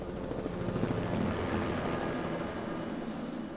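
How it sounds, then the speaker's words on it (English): A firefighting helicopter hovers over a lake, lowering an orange water bucket to fight a forest fire, its rotor thudding steadily and loudly throughout with no talk. "The helicopter is lowering down an orange bucket."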